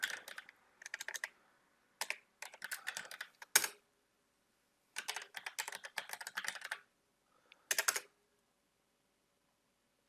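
Keys clatter on a computer keyboard as an update command is typed into an Ubuntu 18.04 terminal, in several quick bursts separated by short pauses, close and fairly quiet, with a few sharper single key strikes.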